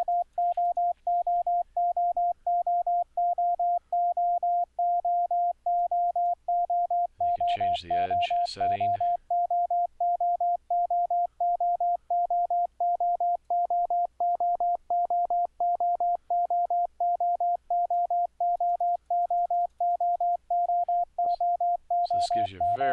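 Morse code sent over the internet with iCW software, a steady stream of very fast, evenly spaced short beeps running throughout, with a voice talking briefly over it midway and again at the end.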